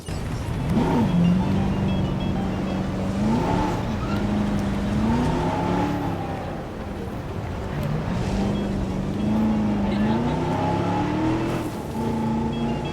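A car drives through a dinosaur park in a video game, its engine droning loudly and steadily and rising and falling in pitch as it revs and shifts. Faint voices are heard in the background.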